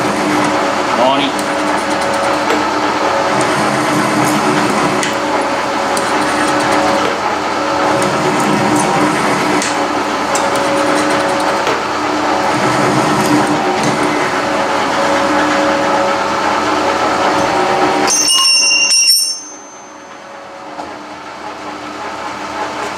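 A metal shaper cuts a groove with a grooving tool, its steady mechanical chatter and hiss running continuously for about nineteen seconds before cutting out abruptly, leaving a quieter background.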